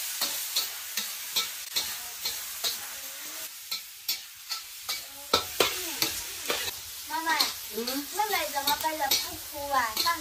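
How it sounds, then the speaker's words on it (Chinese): Pork with chili and green vegetables is stir-fried in a wok, with a spatula scraping and clanking in repeated strokes over a soft sizzle, and a voice chattering in the background. "再倒一下辣椒，炒一下"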